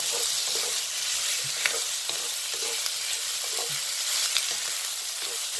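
Squid stir-fries in a spoonful of cooking oil, giving a steady close sizzle with intermittent scraping and stirring clicks from the spatula throughout, no voices.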